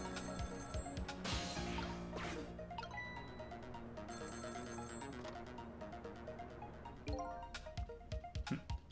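A telephone ringing in a video game, a bright repeating electronic ring layered with game music and a loud crash near the start, then more hits toward the end, no talking.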